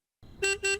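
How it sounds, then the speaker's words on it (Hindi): Two short car horn honks sound in quick succession after a brief silence, loud and close. "देखो कोई बाहर हॉर्न बजा रहा है।"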